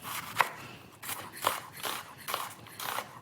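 Knife chopping a red onion on a cutting board, four or five distinct close chops in an uneven rhythm, each with a crisp crunchy attack, heard alone at moderate loudness.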